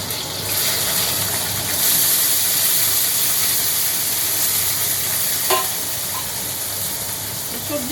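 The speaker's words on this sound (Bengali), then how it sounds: "আপনারা এরকমভাবে সবজিটাকে ভালো করে ভেজে নেবেন" Vegetables stir-fry in hot oil for street-style veg chowmein, giving a loud, continuous close-up sizzle and hiss with one brief utensil clink.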